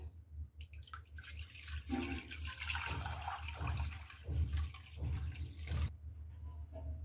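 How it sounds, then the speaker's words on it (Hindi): Lukewarm milk poured from a vessel into a clay pot while making curd, a steady continuous liquid splash and gurgle lasting several seconds before stopping abruptly, close and fairly loud with no talk. "इस दूध को हमें इस मिट्टी के पात्र में डाल देना है"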